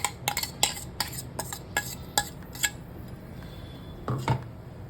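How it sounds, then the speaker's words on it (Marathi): A spoon clatters against a pot while a potato and sago papad mixture is stirred: a quick series of sharp metallic clinks, then a pause and two more knocks near the end, with no voices. "तर मिक्स करून घ्यायचं पूर्ण ट्रान्सपरंट होईपर्यंत आपल्याला शिजवून घ्यायचं आहे"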